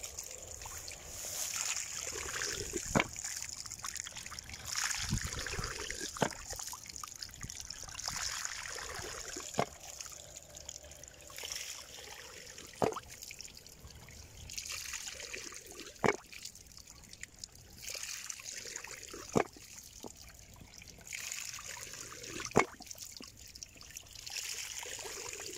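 Water trickles and splashes through a small handmade toy water wheel, a soft continuous dribble punctuated by sharp knocks every few seconds as the filled bucket tips and falls back.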